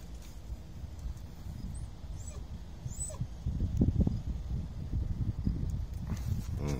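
Several dogs at feeding time outdoors before dawn, with low close shuffling, pawing and eating sounds, faint whimpers and yips, louder toward the end.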